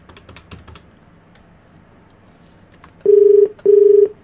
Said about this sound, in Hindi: फ़ोन मिला दो।